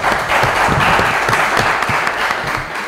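A live audience applauds a student contestant at a Lubumbashi game show. The clapping is dense and steady, close and loud, and carries on through the whole stretch without fading.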